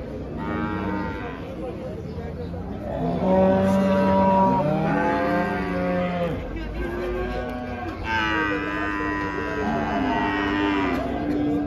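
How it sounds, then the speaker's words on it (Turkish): Cattle moo loudly and repeatedly at a busy livestock market, several long, drawn-out calls overlapping close by amid background crowd noise and some talk. "Burada bir adet inek var yanında danısıyla birlikte 75 bin TL."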